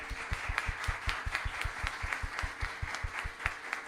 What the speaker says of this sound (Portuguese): pedir uma salva de palmas para ela